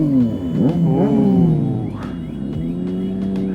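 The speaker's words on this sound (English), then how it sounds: "Look at those rev bombs" Inline-three motorcycle fitted with an aftermarket exhaust, revved in sharp repeated bursts that rise and fall, loud and close, with no talk over it.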